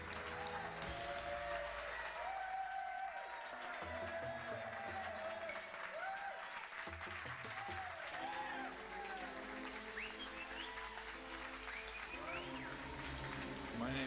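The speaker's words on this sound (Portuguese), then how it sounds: "vamos aplaudir o comediante" A comedy show audience applauds as a comedian is introduced, with sustained clapping running under music and talk for the whole stretch.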